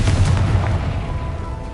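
A Confringo fire spell explodes in Hogwarts Legacy with a loud, deep boom that rumbles on in a steady, dense roar over a low background score.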